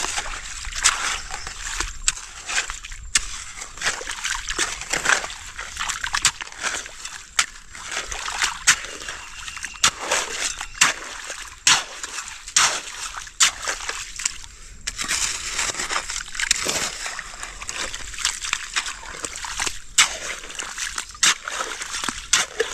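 Continuous sloshing, trickling water close by, with repeated splashy bursts throughout, as water flows through a freshly dug shallow channel.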